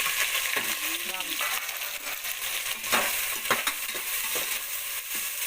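Onions, green chilli and cinnamon bark fry in hot oil for a quick biryani, giving a steady close sizzle with a few light stirring scrapes and clinks throughout.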